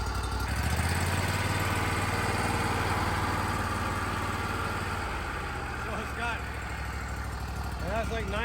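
A Corvette V8 with a suspected battery or charging fault idles with a steady, low, rumbling engine note throughout, while people talk over it.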